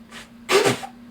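A single short, burst-like sneeze, close and fairly loud, over a faint steady hum.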